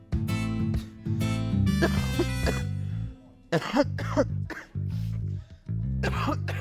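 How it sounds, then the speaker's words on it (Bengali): Several harsh coughs from a person in a Bangla drama scene, heard over a steady background music score, with short breaks between the bursts. "আপনার কাশি কতদিন ধরে হচ্ছে?"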